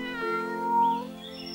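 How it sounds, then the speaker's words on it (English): A kitten found in a garden gives one drawn-out, tonal meow, close and clear with nothing else around it. "While strolling the garden, they saw a kitten."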